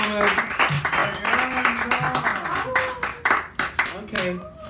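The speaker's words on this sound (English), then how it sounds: "Keep that applause going" Clapping from the crowd at a poetry hour in a San Francisco cafe runs under a host speaking steadily into a microphone, the patter of hands moderate and continuous beneath the voice.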